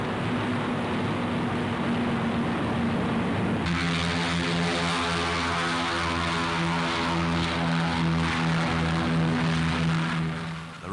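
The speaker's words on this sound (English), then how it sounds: "Hundreds of fortresses and liberators were escorted by long-range fighters, Lightnings and Thunderbolts." Droning propeller engines of WWII American heavy bombers, Fortresses and Liberators, fill the air in flight, a loud steady throbbing roar whose pitch shifts partway through as more engines seem to join, sustained throughout.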